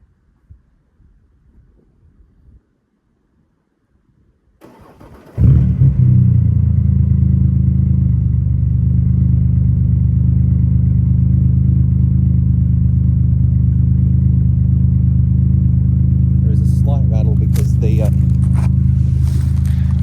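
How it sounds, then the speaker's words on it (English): Ford Explorer with a loud exhaust starts after a few quiet seconds of shuffling, then settles into a strong, steady rumble with a brief rev near the end. "I'm going to go ahead and start the car, and you'll hear how loud this exhaust sounds and how nice it sounds."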